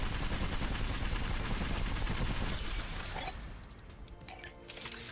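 Rapid automatic gunfire in the Apex Legends shooter game: a dense, loud burst of shots that thins and trails off near the end.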